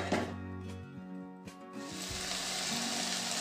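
Onion and tomato sauté in a pan for moth bean usal, a soft steady sizzle that swells after a few faint clinks and scrapes, heard close and fairly quiet.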